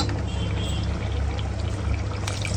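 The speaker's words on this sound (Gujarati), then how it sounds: "આની અંદર હવે આપણે બે લોટા જેટલું પાણી નાખશું" Water goes into a pan of peel-on potato curry with crushed peanuts, a continuous close pour with a low splashing rumble, heard alone.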